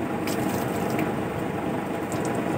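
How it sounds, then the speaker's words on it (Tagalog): Water poured over an air conditioner's air filter, a steady broadband splashing and trickle that stays even throughout with no speech. "Buhos-buhusan lang natin yun."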